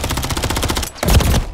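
Gunfire in the multiplayer video game Modern Warfare III comes as a loud, close, rapid automatic burst of evenly spaced shots. It pauses briefly, then a heavier blast with more shots follows, and there is no talking.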